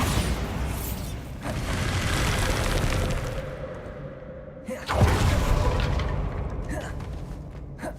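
Bombarda spell blasts in the Hogwarts Legacy game, a rumbling explosion followed by a second sharp boom with debris and crackling, loud and close, with a voice briefly speaking.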